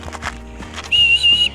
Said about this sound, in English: Baby girl, do you want to blow your whistle?